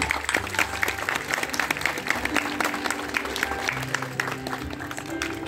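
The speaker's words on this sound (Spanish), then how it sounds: "¿Dónde están los aplausos?" Guests at a wedding reception applaud, a sustained patter of clapping from a crowd with a few tonal notes of background music and some voices mixed in.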